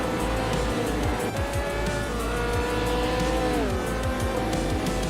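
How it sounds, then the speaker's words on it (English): A 1966 McLaren M10A race car in a racing video game, engine droning loudly and continuously with shifting pitch, tires squealing and other cars passing throughout. "driving a 1966 McLaren M10A"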